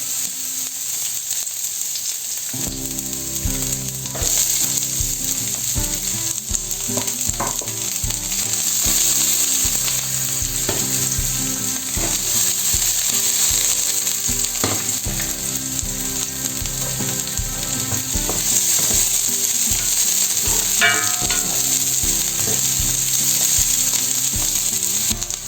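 Sliced onion sizzles loudly and continuously in hot cooking oil, a close, steady frying hiss with occasional clinks of stirring.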